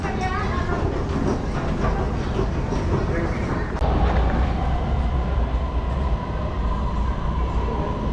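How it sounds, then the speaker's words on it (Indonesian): A metro train rumbles loudly and steadily nearby, a continuous roar of wheels and motors filling the platform as it comes into a station in Malaysia. "Kereta apinya sudah sampai"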